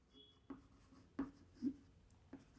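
Marker or chalk writing on a board during a chemistry lesson: a few short, faint scratchy strokes at irregular intervals in a quiet room.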